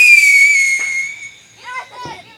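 A whistling firework shrieks loudly and close, its high whistle sliding slowly downward, then fading into crackling bursts, set off beside a bonfire used to burn gunpowder.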